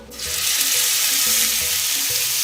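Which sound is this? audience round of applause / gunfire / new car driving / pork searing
pork searing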